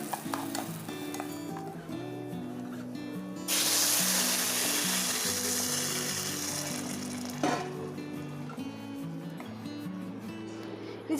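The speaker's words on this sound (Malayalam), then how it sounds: "അപ്പോൾ നമുക്ക് ആ റൈസ് തമ്മിലൊന്ന് ജസ്റ്റ് വിട്ട് കിട്ടുന്നത് വരെ ഒന്ന് ജസ്റ്റ് ഒന്ന് ഫ്രൈ ചെയ്തെടുക്കാം" Rice fries in a pan with a steady sizzle and stirring, which swells into a louder, hissing rush midway and then settles again, over soft background music.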